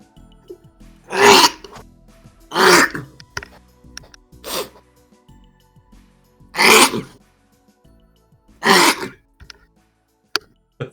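A person sneezes repeatedly, five strong bursts spaced about two seconds apart, close and loud, with short gasping breaths and throat sounds between them.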